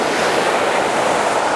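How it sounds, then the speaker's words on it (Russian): Stormy autumn sea off the Crimean coast, waves crashing and surging onto the shore in a steady, loud, continuous roar with wind buffeting the microphone and no voices. "Видите, как море заливает? Насладиться бушующим морем."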